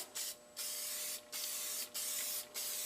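Paint sprayer laying down a light coat on a part, heard as several close, steady hissing bursts separated by short pauses.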